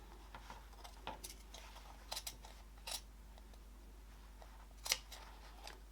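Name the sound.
scissors snipping fabric of a zip wallet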